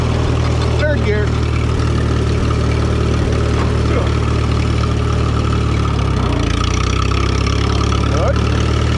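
A Minneapolis-Moline UB engine with no alternator fitted runs steadily in gear, a constant loud mid-pitched chug and drone close by, with small shifts in tone as it works.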